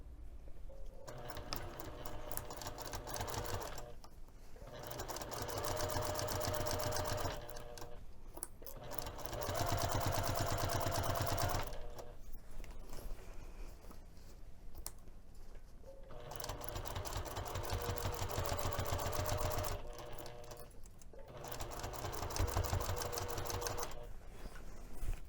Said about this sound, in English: let's take this over to the sewing machine